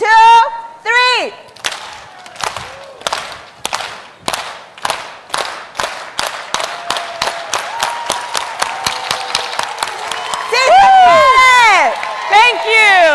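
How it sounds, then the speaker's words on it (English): An audience performs a unity clap at a membership summit, single sharp claps slowly at first then speeding into a rapid run, ending in loud cheering and whooping. "Stand up, put your hands up, and we're going to close with a unity clap"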